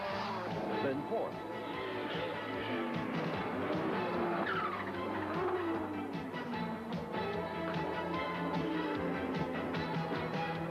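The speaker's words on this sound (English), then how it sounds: "The challenge is left to Haywood, who responds by charging up to fifth" Audi 200 Quattro race car engine roaring during a race alongside other cars, with tire squeal and continuous loud engine drone under a commentator's voice.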